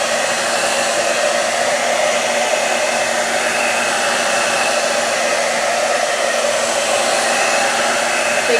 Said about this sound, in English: Just drying my paint.